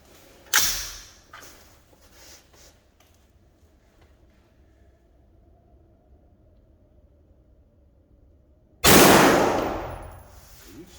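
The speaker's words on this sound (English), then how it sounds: "To say this gun is loud is an understatement." Springfield Armory ATC Saint rifle fires, with two sharp, very loud shots close by early on, a long quiet stretch, then another booming shot that rings out and decays.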